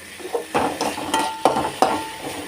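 Vegetables are mixed in a pan with salt, asafoetida powder and turmeric powder. A spoon scrapes and clinks against the metal in uneven strokes over a light sizzle, close up with no talking.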